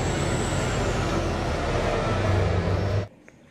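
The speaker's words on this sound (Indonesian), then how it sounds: "Truk tambang, teman-teman." Toy mining truck rolling with a steady, loud rumbling whir that runs continuously, then cuts off abruptly near the end.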